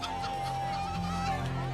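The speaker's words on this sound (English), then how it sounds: "Please be careful with the chicken." A country chicken carried in a basket gives honking, goose-like fowl calls under a steady hum of background noise and music in a film scene.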